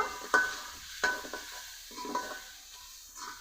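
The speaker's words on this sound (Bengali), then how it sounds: "দিব লবণ, দিব হলুদের গুঁড়া। কিছুক্ষণ কষিয়ে নিব।" Onion and chopped tomato with salt and turmeric sauté for a rohu fish curry, a quiet sizzle broken by several sharp spoon scrapes and taps on the pan at uneven intervals, close and without talk.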